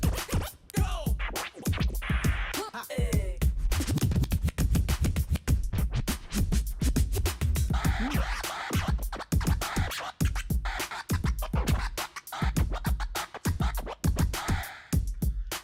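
Rapid rhythmic turntable-style scratch effects triggered from the built-in sound effects of a Pioneer DDJ-REV7 DJ controller, a long dense run of choppy back-and-forth strokes with no talking.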